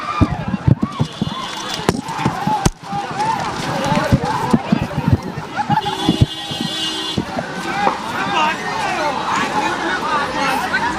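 A crowd of young protesters mills at the Jantar Mantar protest site in a dense, busy hubbub, with footsteps and scattered shouts among nearby voices and passing traffic.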